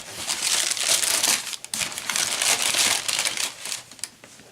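Lab paper from a sneaker box for Jordan 1 Retro sneakers is crinkled and crushed close up, a continuous rustling with brief pauses and no talk.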